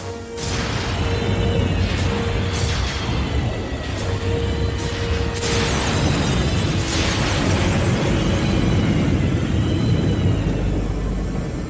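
A Dragonfire weapon fires and explodes in a G.I. Joe cartoon, giving loud, sustained roaring blasts with sharp bursts and whooshing surges layered over a rumbling mechanical drone, with no pause throughout.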